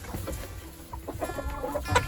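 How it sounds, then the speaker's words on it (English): Chickens cluck and murmur close by in a farmyard before a snowstorm, a dense overlapping chatter of soft calls with a few sharper squawks near the end. "The clucking is annoying."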